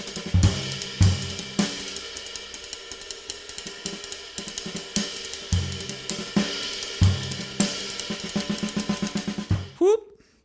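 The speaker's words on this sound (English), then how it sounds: "that kit sounds good, man. Dude, Gretsch, they do it well, that old jazz sound." A Gretsch drum kit with an old jazz tuning plays a lively groove: crisp snare hits and cymbal wash over punchy kick accents, steady and close, with a final flourish and a cymbal choke before a brief trailing sound.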